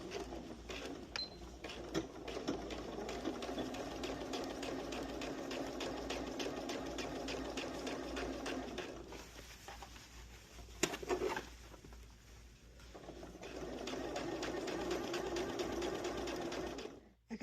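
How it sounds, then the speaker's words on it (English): A sewing machine stitching a seam down to a garment lining, a steady fast whirring needle rhythm that runs for several seconds, pauses briefly with small clicks, then resumes, close and continuous. "I'm going to stitch this seam down to the lining"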